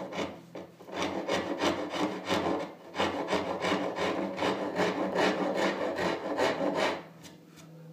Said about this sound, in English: I'm just doing it with rasp.